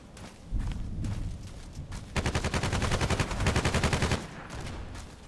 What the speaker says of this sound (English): That gun sounds